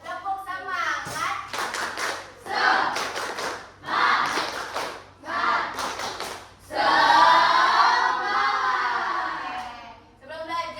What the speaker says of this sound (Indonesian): lagi ya, tepuk semangat